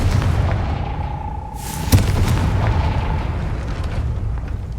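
A fiery spell explosion from the Confringo curse in the video game Hogwarts Legacy bursts once with a sharp crack over a loud, rumbling game soundscape, then fades back into steady low background noise.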